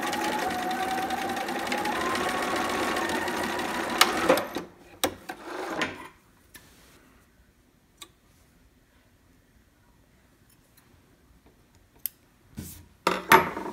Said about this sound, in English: I'm just gonna stitch right over it, right on the edge